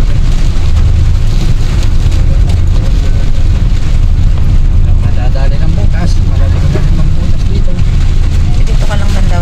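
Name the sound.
heavy rain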